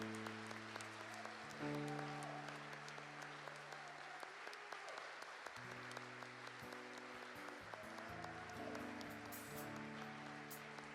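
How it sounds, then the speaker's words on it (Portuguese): A church congregation applauds for Jesus, a soft, steady patter of many hands clapping at a distance beneath sustained organ or keyboard chords that shift underneath. "Dá um salve de palmas para Jesus, Senhor."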